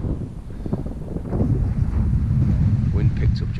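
Wind buffets an exposed hillside wild camp on Stybarrow Dodd after a cold April night, making a steady, close, low rumbling roar across the microphone that swells slightly partway through.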